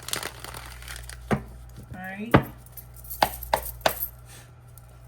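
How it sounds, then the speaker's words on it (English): Tarot cards are shuffled by hand, giving a series of sharp snapping and flicking taps spaced unevenly across a few seconds, close by, with a brief spoken word. "I'm just going to give it one good shuffle."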